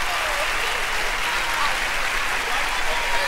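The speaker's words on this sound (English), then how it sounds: "Give them another big hand," Audience at a church concert applauds children after their performance, a steady, dense wash of clapping filling the whole stretch, loud and close with no break.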